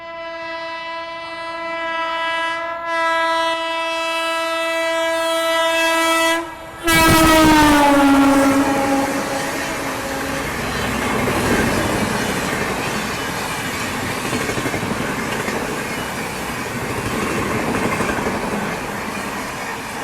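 Indian Railways train passing a stopped train at a station: a long, loud horn blast, then the roar and rumble of coaches rushing past close by, continuing to the end.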